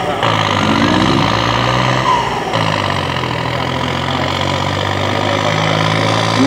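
At a 2014 tractor pulling event in Rantasalmi, Finland, an 83-year-old tractor's engine roars heavily and continuously at close range while hauling a 6,500-kilogram load, with the pitch shifting slightly as it strains.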